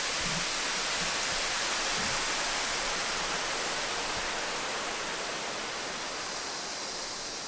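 An Omnisphere synth rain patch called Chemical Showers gives a dense, even wash of hissing rain-like noise that holds steady and fades slightly toward the end, with no talk.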